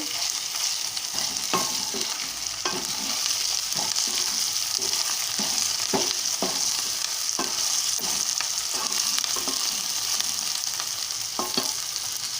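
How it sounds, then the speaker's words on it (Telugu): Ginger garlic paste fries in hot oil for a mutton curry, giving a steady close sizzle throughout, broken by scraping taps as a spoon stirs the pan. "అల్లం వెల్లుల్లి పేస్టు నూనెలో వేగాలి, పచ్చి వాసన పోయేంత వరకు వేగాలండి"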